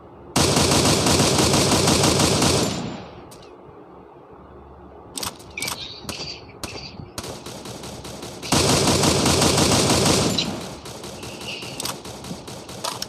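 Machine gun fire in a shooting video game: two long, loud sustained bursts of rapid fire, separated by a pause with a few scattered single shots and clicks.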